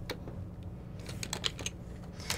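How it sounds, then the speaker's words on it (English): Computer keyboard typing picked up close by a Blue Yeti microphone during a Minecraft Sky Factory 4 session, a run of irregular quick clicks and taps with a few louder keystrokes, no talk. "You probably can hear every single tip-tap I do with my keyboard"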